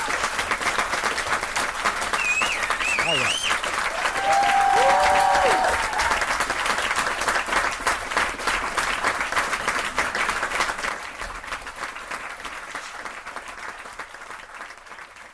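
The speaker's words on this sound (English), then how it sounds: "give yourself a round of applause." Round of applause during an online trigonometry lesson, steady clapping with a few tonal whistle-like sweeps early on, fading gradually toward the end; someone speaks briefly.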